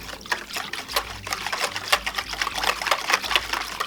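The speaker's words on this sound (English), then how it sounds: "we're going to dump the salt in the water, mix that up until it dissolves really good" Salt being stirred into water in a jar or bowl for a garlic-fermenting brine, with steady sloshing, trickling and scraping of the mixing, close and fairly loud, with no talk.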